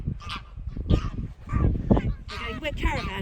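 Several geese honk in bursts along the North Norfolk coast, the calls rising louder toward the end over people talking nearby.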